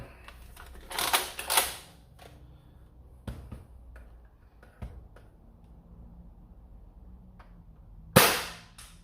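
A foam dart blaster fires darts, giving a few sharp snapping shots spaced several seconds apart, with clicks and handling noises between them, close by and without talk.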